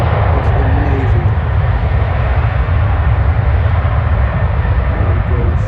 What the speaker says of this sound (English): Wow, the noise of the airplane is amazing.